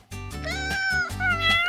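A cat meows loudly and close up in a cartoon setting, a couple of drawn-out whining calls in quick succession with no talking over them.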